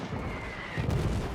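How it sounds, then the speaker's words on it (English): Artillery fire in the trench-warfare game All Quiet in the Trenches, a brief stretch of dull rumbling booms with one heavier thud near the end, moderately loud and heard without voices. "Artillery scares the crapola out of me because it's so random and it's so unforgiving."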